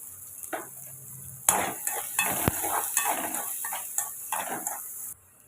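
Vegetables sizzle in a pan while a utensil stirs and scrapes repeatedly, with metallic clinks in a steady rhythm.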